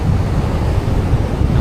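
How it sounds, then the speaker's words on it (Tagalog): Rough sea and strong wind at a Philippine fishing coast, a dense continuous roar of waves with constant wind rumble, loud and steady with no voices. "Ang dagat ngayon."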